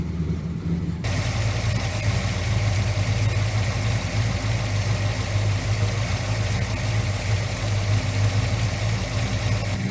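A 1977 Ford F100 engine idles steadily while warming up, a loud, even, close rumble that starts abruptly and holds without revving.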